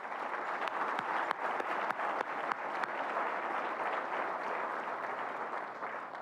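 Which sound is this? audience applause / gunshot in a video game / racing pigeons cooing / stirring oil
audience applause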